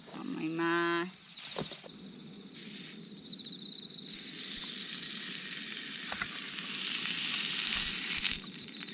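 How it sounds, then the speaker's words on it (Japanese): Bacon sizzles steadily in a mini campfire frying pan outdoors, a dense close crackle that swells louder toward the end, with a short tonal chirp near the start. "ではまあいろいろありましたらベーコンを焼いていこうと思います。"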